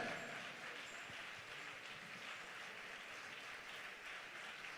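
A church congregation clapping continuously during prayer, a dense, even wash of applause that holds steady throughout without pauses.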